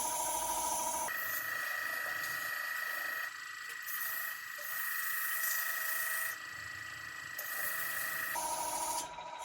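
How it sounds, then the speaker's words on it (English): Steady scratchy rubbing of sandpaper on a wooden biscuit cutter, close up, running continuously with brief changes in pressure and no voices. "We can do some further sanding on it, going up kind of 400."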